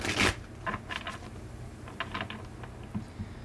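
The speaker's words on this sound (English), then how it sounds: "One more shuffle." Soft, close riffling and clicking of tarot cards being shuffled during a live reading, a few quick bursts of card flutter in an otherwise quiet room.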